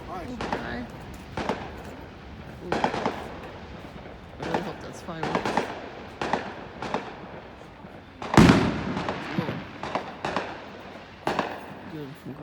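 Fireworks go off repeatedly at irregular intervals, sharp cracking bursts with one especially loud nearby blast, while a person talks intermittently between and over the bangs.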